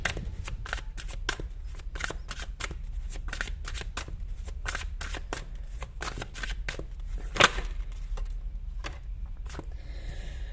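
A tarot card deck being shuffled, with rapid papery riffles and flicks repeating steadily throughout, close and fairly quiet, with a brief sharper snap near the end.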